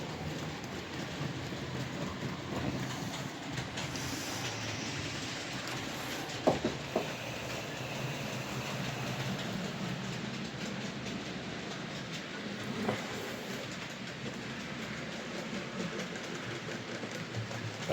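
A class 37 locomotive on a model railway runs at half speed, giving a faint continuous rolling rumble with occasional small clicks, quiet and steady throughout.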